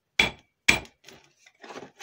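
Two sharp metal hammer taps ring out on a sawn-off valve with an iron body and bronze internals, followed by several softer, scraping knocks, close and alone.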